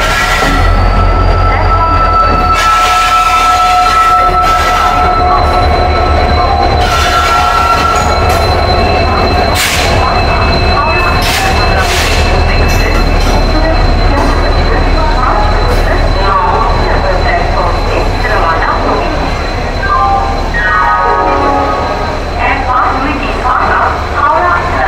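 Howrah Bengaluru Duronto Express at a crowded station, its wheels and cars rumbling steadily with high metallic squeals and clatter, loud and close throughout, with crowd chatter and voices on the platform.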